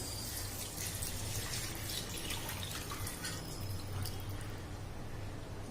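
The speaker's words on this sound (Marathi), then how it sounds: "हे चिकन शिजवलेलं पाणी आहे ते टाकतोय आपण" Cooked chicken stock pours into a pot of chicken manchow soup with a continuous, soft splashing trickle. It is fairly faint and steady throughout, with no talking.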